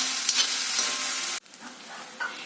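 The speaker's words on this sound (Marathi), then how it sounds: "तेलामध्ये मसाला आपण असा व्यवस्थित परतून घ्यायचा तेल सुटेपर्यंत" Masala sautés in oil for a spiced pea keema, a dense close sizzle that suddenly drops quieter partway through, followed by softer frying and a stirring scrape.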